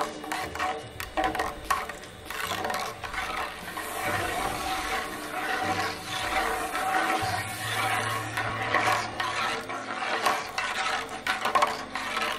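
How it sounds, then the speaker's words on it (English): Salt being stirred into a fabric dye bath for re-dyeing stained couch covers, a steady wet swishing and scraping against the container that runs continuously with no voices. "I'm going to stir in the salt."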